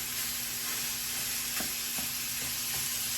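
Ground beef, partly still frozen, sizzles steadily in a skillet. A few soft scraping stirs come through over the continuous frying hiss, and no one speaks.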